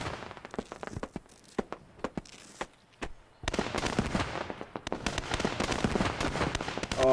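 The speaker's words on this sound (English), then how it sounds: "Oh, look at the ammo cook-off." Ammunition cooking off in the WWII shooter Post Scriptum: scattered sharp pops and bangs crackle at first, then a dense, loud roll of continuous popping blasts fills the second half.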